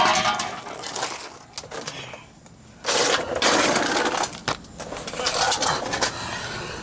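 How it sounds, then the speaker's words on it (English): Loose chunk of catalytic converter rattling and clattering inside the exhaust of a Jeep Wrangler YJ, irregular metallic shaking heard up close in uneven bursts. "there's a chunk of the catalytic converter inside there that's just rattling around"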